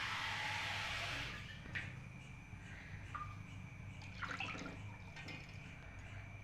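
Water pours into a pan on a gas stove for making ragi kheer, a brief hissing gush at the start that fades into quiet kitchen sounds and small clinks.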